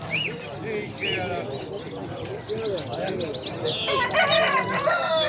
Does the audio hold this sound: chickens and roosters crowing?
yes